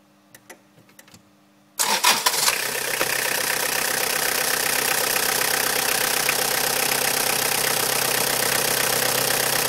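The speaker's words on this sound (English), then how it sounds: "now we're going to start and run the engine just to let the fault get into the memory." A 1999 Toyota Corolla diesel engine cranks and fires after a quiet moment, then settles into a loud, steady idle that runs without a break to the end, close by and with no talking.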